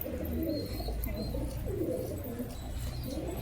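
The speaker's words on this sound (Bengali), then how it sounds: "ভালো ভালো কবুতর আছে" Low, soft coos from pigeons kept for sale in Beldanga, Murshidabad, repeat in a quiet, muffled space, with faint chirps and a steady background hum.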